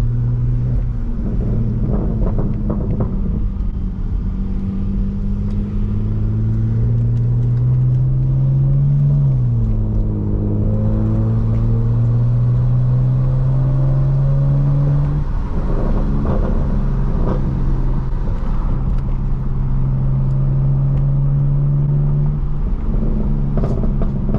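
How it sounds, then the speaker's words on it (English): Steady engine rumble of a BMW E92 328i with revving rises and falls, and scattered crackling pops from the exhaust, recorded from inside the car with no talking. "let you guys listen to these exhaust pops"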